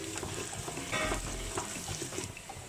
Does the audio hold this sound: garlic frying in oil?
yes